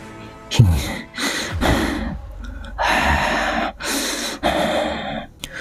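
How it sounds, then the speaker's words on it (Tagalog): Heavy, ragged breaths come in a series of sharp gasps and snorting exhalations, close and loud, with short pauses between them. "Tunog ng paghinga ng mga ito na may halo ng takot."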